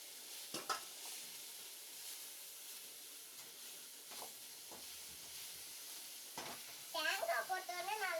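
Vegetables with turmeric powder are stirred and sautéed in a pan, giving a soft steady sizzle with occasional scraping strokes, and a brief burst of voice near the end.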